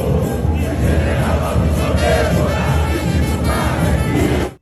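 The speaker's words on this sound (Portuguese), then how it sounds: "Então, roda a nossa vinheta" A loud, continuous crowd roar like a stadium full of football fans opens a Botafogo sports channel's intro, holding steady for several seconds before cutting off abruptly.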